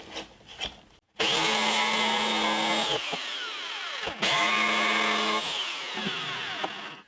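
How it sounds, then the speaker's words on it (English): A jigsaw cuts between a 16mm and a 6.5mm drilled hole in the wood of an old acoustic guitar under repair. Two loud, close buzzing runs are split by a brief stop, with a few light knocks beforehand. "I'm just joining the two up with this jigsaw"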